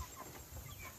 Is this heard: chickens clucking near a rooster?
yes